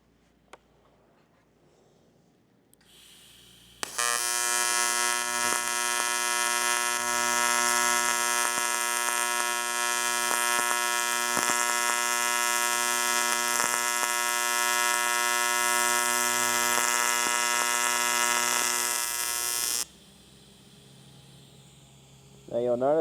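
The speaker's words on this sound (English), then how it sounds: "Now you'll notice I'm keeping my torch there for a little bit, and that's just to sort of keep that gas post flow on the tungsten" Steady, loud electric buzz from a TIG torch welding an alloy tray for a Toyota Hilux N60 with filler rod, running unbroken for about sixteen seconds after a quiet start and stopping abruptly.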